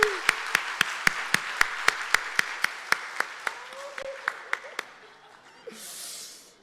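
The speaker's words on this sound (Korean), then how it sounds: "박수를 부탁합니다." A church congregation at a children's dedication service claps for the children, with steady, evenly spaced claps that fade toward the end and faint voices underneath.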